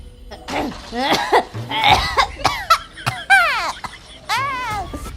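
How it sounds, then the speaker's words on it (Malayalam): Several sharp, close coughs in irregular bursts, mixed with short bits of a voice and throat sounds. "എന്താ ചേച്ചി ചുമക്കുന്നേ?"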